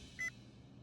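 A single short electronic beep sounds from a phone as a call is switched to speakerphone. It is a brief, clear tone over quiet room background in an indoor TV police-drama scene.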